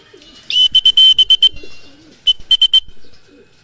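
Racing pigeons returning to their loft after a training toss, with short bursts of rapid wing-clapping flutters, two clusters of sharp flaps close by, and faint low cooing between them, no talk.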